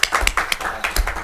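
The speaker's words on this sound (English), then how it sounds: "You're coming in with claps and going out again." Audience clapping at a charter schools review board meeting, a short burst of quick, sharp claps from a small group, close and fairly loud.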